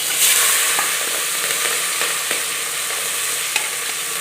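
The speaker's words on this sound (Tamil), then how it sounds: "இப்போ வந்து தாளிப்பு போட்டுக்கலாங்க" Tempering spices sizzle and crackle in hot oil in a pan, a steady loud hiss with scattered small pops, close up and without talk.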